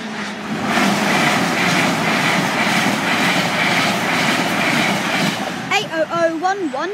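An LNER train passes Helpston level crossing with a loud, steady rumble and rushing roar close by for several seconds, and a voice speaks briefly as it ends.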